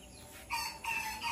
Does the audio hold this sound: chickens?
yes